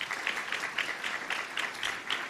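An awards ceremony crowd claps for a press club winner, a brief bout of moderately distant applause with a slightly pulsing, uneven rhythm.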